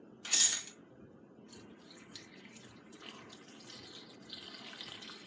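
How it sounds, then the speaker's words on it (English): Filtered water pours into a power drink mix in a short, splashy gush up front, then settles into a faint, soft trickle for the rest. "Now, to add the filtered water."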